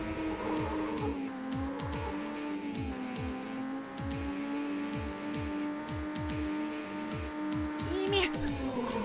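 In Ridge Racer Type 4, a racing car's engine whines at steady high revs while a rapid run of short repeated squeals and skid bursts sounds from heavy brake mashing, with a voice talking over the game.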